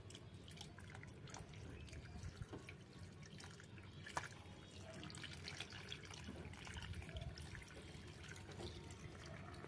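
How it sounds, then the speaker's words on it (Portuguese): Water drains out the bottom of a potted jabuticaba tree after fertilizer feeding, making soft, faint trickling and scattered drips that continue steadily and quietly throughout. "é só esperar a água sair embaixo como está saindo aqui"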